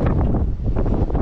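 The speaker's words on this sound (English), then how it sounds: "It's really windy up" Strong wind buffets the microphone high up on a bricklaying site, a loud continuous roar with gusty surges and no voices.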